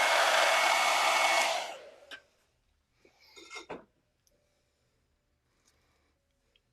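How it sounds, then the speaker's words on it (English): A handheld hair dryer blows loud and steady for under two seconds to dry water on a chalk paste stencil, then switches off. A few soft rubbing and tapping noises follow before the rest goes quiet. "I have a little bit of water right there, so I'm just going to grab my hairdryer."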